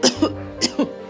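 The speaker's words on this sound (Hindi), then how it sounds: "पर ये खांसी रुके तो।" An ill elderly woman coughs at night, two close hacking bursts in quick succession, heard clearly and alone.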